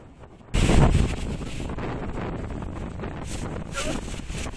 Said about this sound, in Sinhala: එකම හුළඟ ගොඩක් වැඩි නිසා බයික් එක කන්ට්‍රෝල් කරන්නත් බෑ. ඒ තරම් හුළඟ තිබුණා